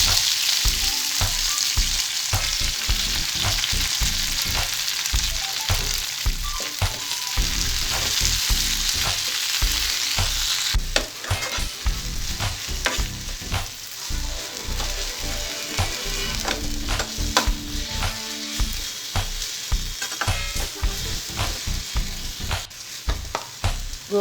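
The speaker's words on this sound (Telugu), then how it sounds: "ఆయిల్ వేడిన తర్వాత గోంగూర ఫ్రై చేసుకోవాలి." Gongura leaves fry in hot oil in a pan, crackling and sputtering loudly up close, with frequent sharp stirring scrapes and clatters. The sizzle eases a little partway through, and no one speaks.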